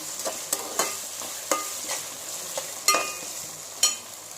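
Onions fry in a pan for chicken curry, a steady sizzle broken by regular scraping stirs of a utensil about once a second, close up and without talk.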